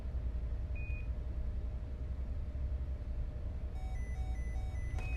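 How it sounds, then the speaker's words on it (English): A master alarm sounds in the Interkosmos 2000 VR space game, warning of a life support or power fault: a short chirp, then a run of evenly spaced electronic beeps near the end over a steady low hum. "You can press the master alarm button to disable the sound of the alarm."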